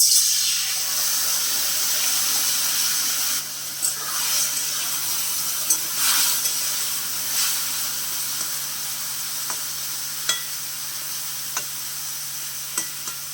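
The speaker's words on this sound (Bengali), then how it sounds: "বন্ধুরা আমি যে হালকা করে জল দিয়ে নিচ্ছি" Water splashes into a hot pan of fried okra, setting off a loud, steady sizzle and hiss that fades slightly, with scattered clicks and utensil taps, close by and without speech.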